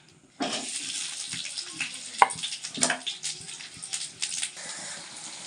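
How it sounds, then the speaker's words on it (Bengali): Chopped onion and tomato hitting about 50 grams of hot mustard oil in a wok, a sudden broadband hiss and crackle that starts abruptly and continues steadily with scattered louder pops and bursts, close and fairly loud, no talk. "50 গ্রাম মতন সর্ষের তেল দিলাম, দিয়ে কেটে রাখা পেঁয়াজ আর এই টমেটো কুচি দিয়ে দিলাম।"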